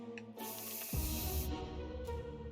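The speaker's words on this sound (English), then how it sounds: "Thank god we got us some bug spray." Bug spray can in the survival video game 60 Seconds, a sharp, close hiss that bursts on for about a second, then a lower rumbling effect and a brief second puff.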